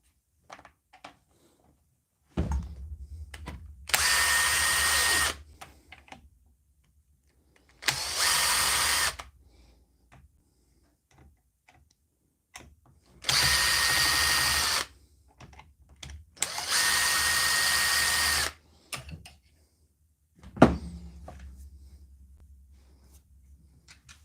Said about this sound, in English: I'll just keep taking out screws.